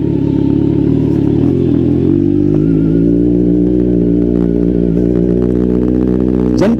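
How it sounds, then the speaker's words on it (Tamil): Kawasaki Z900 motorcycle pulling away in first gear, a steady loud engine drone with rising revs held close by, no talking. "ஃபர்ஸ்ட் கியர், கியர் ஷிஃப்ட் ஆகிறது வந்து ஒரு ஸ்போர்ட்டினஸ் காமிக்கிறது"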